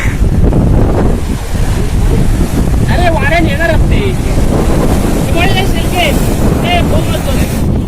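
Small boat out on the water at Ambolgad beach, with steady wind buffeting the microphone and a constant roar of waves and water throughout, while voices chatter loudly over it.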